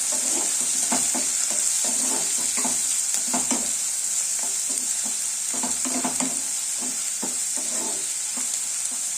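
Cut onions and green chillies sizzling in a pan while being stirred, a steady bright frying hiss overlaid with rhythmic, repeated spatula scrapes up close.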